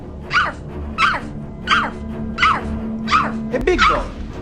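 A man imitates a big dog with his voice, giving six evenly spaced, deep woof sounds, close and clear.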